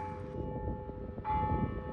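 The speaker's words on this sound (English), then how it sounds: "Clock strikes 10 a.m. Eastern Standard Time in Brockville." Brockville City Hall clock bell strikes 10 a.m., ringing tones heard at a distance over outdoor ambience, with a second strike starting partway through.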